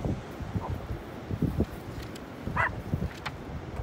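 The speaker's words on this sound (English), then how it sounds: "She's barking at all the dogs on the beach." A dog barks on a beach, one brief bark standing out against steady wind noise and rustle.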